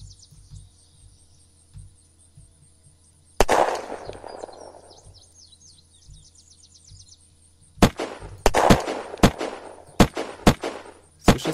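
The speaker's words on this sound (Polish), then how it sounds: "Słyszę strzał, nie wiem skąd." Gunshots in the video game Unturned: one sharp crack with a decaying echo, then after a pause a rapid cluster of loud reports, set against a faint continuous insect-like chirping ambience with no talking.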